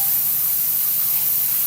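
Onions and garlic fry without oil in a Saladmaster pan, giving off a continuous, even hiss and sizzle that stays steady throughout with no talking.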